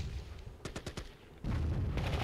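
Cannon fire in the strategy game Warzone 2100: a quick burst of four or five sharp reports in rapid succession, followed by a louder rumbling blast.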